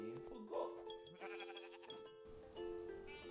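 Faint, wavering bleats from a goat on a farm, heard in a few short bursts alongside a voice teaching animal names.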